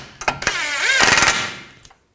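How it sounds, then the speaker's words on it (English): Ratchet or impact tool with a 19mm socket running nuts onto a Toyota Sienna front lower ball joint, a short buzzing mechanical whir with sharp clicks at the start, rising and then fading within about two seconds. "Get the nuts started. Use a 19mm socket on the nuts."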